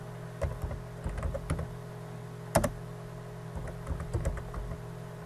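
Card details being typed on a computer keyboard: irregular bursts of close, light key clicks with short pauses and one sharper clack midway, over a steady low hum.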